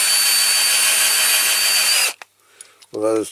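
A blunt bit drills into a part of a Corgi Faun AK435 road sweeper model, a loud high whining drill run for about two seconds that stops abruptly, followed by small clicks and a brief voice.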